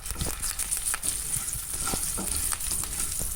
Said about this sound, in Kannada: ಒಂದು ಬ್ಯಾಡಗಿ ಮೆಣಸಿನ್ಕಾಯಿ ಹಾಗೂ ಒಂದು 4-5 ಕರಿಬೇವನ್ನು ಹಾಕಬೇಕು. ಈಗ ಇದನ್ನು ಕೂಡ ಒಂದು 30 ಸೆಕೆಂಡ್ಸ್ ಫ್ರೈ ಮಾಡಬೇಕು.